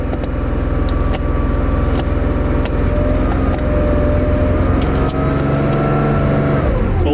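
An older fuel-injected car with a cold-start throttle adjustment runs just after a cold start: a loud, steady close-up engine drone that holds an even pitch, then winds down at the end.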